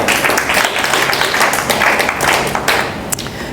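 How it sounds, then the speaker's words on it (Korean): An audience at a lecture claps together, a bright, continuous patter of many hands that holds steady for a few seconds before thinning at the end. "박수 한번 칩시다."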